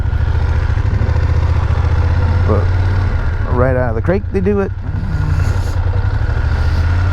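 BMW F800GS motorcycle engine idling steadily with a loud, constant low-pitched drone throughout, while someone talks briefly over it in the middle.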